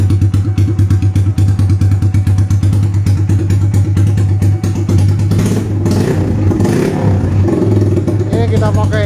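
A custom-built motorcycle engine idles loudly and close through a 3 mm exhaust, giving a steady deep throbbing drone with fast rhythmic pulses and a few brief rises in revs, with someone talking over it part of the way.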